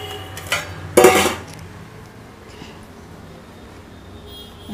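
Metal cookware clatters as food is moved into a metal pot, with two short, sharp clanks near the start, then quiet kitchen room tone.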